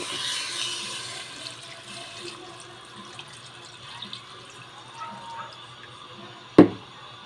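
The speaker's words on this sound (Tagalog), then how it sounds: "So, ito mga kaibigan, lagyan na natin ng tubig." Water runs steadily into a cooking pot holding beef for a sweet corn and vegetable soup, a soft continuous pouring wash that ends with a brief sharp clatter near the end.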